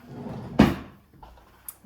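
A kitchen drawer slides with a single sharp thump of wood, close and brief, followed by a faint rattle and a small click in an otherwise quiet room.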